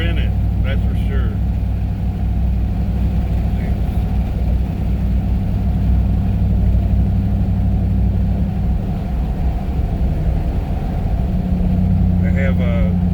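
A RAM TRX truck engine with a QTP exhaust cutout, heard from inside the cab as a loud, steady low rumble of idling throughout, with a voice talking over it.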